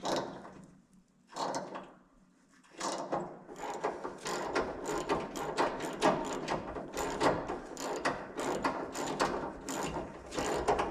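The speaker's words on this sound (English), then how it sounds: "retapping existing threads kind of sucks" A thread tap is turned by hand to recut existing threads, producing repeated close ratcheting clicks and grinding metal creaks in an uneven rhythm.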